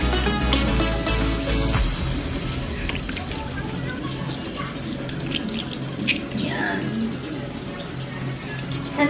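A tap runs steadily into a sink as someone washes their face with plain water in the morning, a continuous splashing rush with soft voices faintly underneath.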